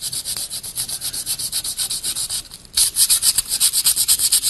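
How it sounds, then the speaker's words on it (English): Sandpaper is rubbed back and forth over a wooden axe handle in quick, even strokes, a close, scratchy rhythmic rasping with a brief pause partway through. "I kind of like to run a little sandpaper over it and clean it up a little bit where we had the rasp."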